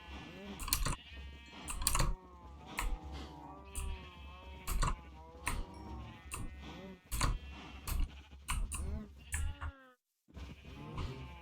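Sheep bleat repeatedly in the video game Minecraft, with many short, loud, nasal calls overlapping at an irregular rhythm throughout, broken by a brief gap near the end.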